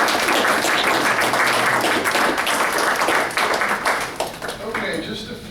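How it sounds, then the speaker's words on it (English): Sustained applause from a luncheon crowd honoring cheerleaders, dense and steady clapping that fills the room before thinning out near the end, with some voices mixed in. "let's give them all a round of applause"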